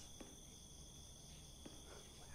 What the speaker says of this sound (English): Now you got the crickets.